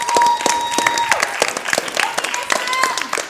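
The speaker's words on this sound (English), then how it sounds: "A big round of applause for BSM." An audience at a team quiz match applauding the winners, steady clapping with a few cheers, moderately loud and close, with a voice talking over it and a faint electronic tone in the background.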